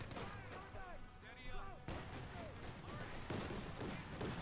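Flak halftrack firing in Company of Heroes 2, a WWII strategy game battle between German OKW and US forces, with dense rapid gunfire bursts and distant explosions throughout under a game soundscape, with chirpy tonal effects early on.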